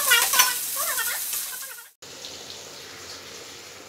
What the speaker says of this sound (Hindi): ये हल्का थोड़ा सा फ्राई हो गया, फ्राई हो गया